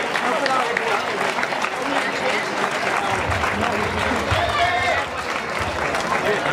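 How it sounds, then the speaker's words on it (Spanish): Crowd applause for the winning senior runner at the Legua Castellana race in Monleras, a steady outdoor clatter of many hands heard under a voice speaking, with some chatter and noise around it. "ese aplauso merecido"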